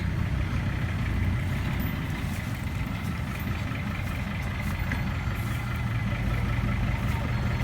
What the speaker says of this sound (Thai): ชมบรรยากาศการตักดินนะคะ